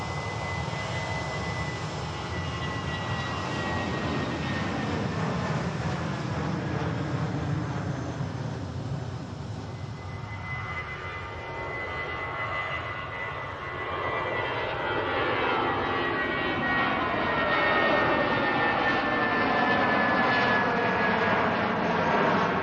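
A British Airways Shuttle jet departs Manchester bound for London Heathrow, its engines a loud, sustained roar whose pitch sweeps and shifts as the aircraft passes and climbs away, with no talking.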